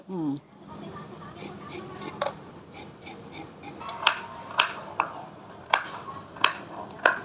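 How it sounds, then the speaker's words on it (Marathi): A knife chops carrots and other vegetables on a board in a home kitchen, a steady series of crisp close taps that settle into a regular rhythm, with faint metallic clinks and no talk. "अजून मम्मी इथं गाजर वगैरे कापून घेते"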